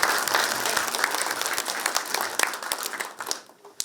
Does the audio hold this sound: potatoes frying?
no